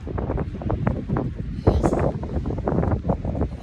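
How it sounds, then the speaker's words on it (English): Strong wind by the sea at sunrise buffets the microphone in continuous rumbling gusts, loud and close, with no voices. "It's very windy."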